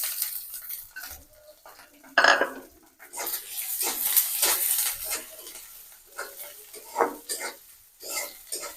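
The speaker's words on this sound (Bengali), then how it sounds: "এখন আমি দিয়ে দিব পিঠে রাখা পেঁয়াজ আর মরিচ" Onion and chili frying in hot oil in a wok (kadai), with spatula scrapes and clinks of metal against the pan, a steady sizzle beneath, close and fairly loud, no talk.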